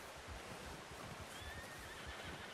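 Horse neighing in the video game Red Dead Redemption 2, a faint high whinny rising over steady outdoor ambience and soft hoof-like thuds.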